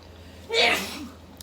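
A single loud, close sneeze bursts out after a short quiet lead-in, then fades into soft breathy background.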